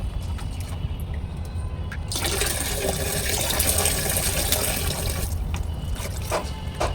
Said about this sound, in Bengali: তো দেখতে পাচ্ছ গরম জল মিশাচ্ছি।